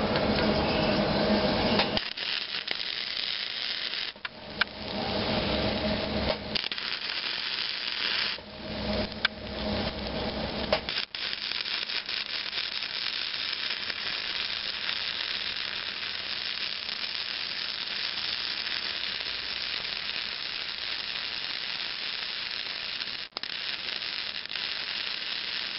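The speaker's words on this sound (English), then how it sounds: "Let's weld one up." A Hobart Handler welder running a long, steady bead, giving a constant harsh crackling hiss up close, broken by short gaps where the arc stops and starts again, with no voices heard.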